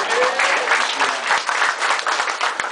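An audience at a business opportunity presentation in Cebu claps in a lively, uneven burst, individual hand claps standing out within continuous applause.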